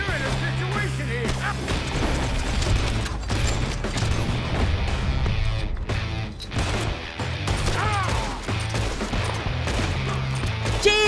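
Gunfire during a train robbery inside a tunnel in Red Dead Redemption 2: a steady string of irregular shots cracks over busy game sound and low rumbling, loud and continuous for about eleven seconds.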